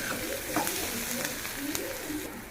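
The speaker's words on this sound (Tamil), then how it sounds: "சின்ன வெங்காயம் நல்லா வதங்கட்டும். லைட்டாக 2 கொத்து கருவேப்பிலையை போட்டு கிண்டி விட்டுருலாம்." Small shallots frying in oil with a couple of sprigs of curry leaves, stirred now and then; a soft, steady sizzle runs throughout beneath a voice.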